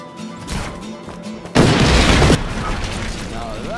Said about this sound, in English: Now that's an explosion.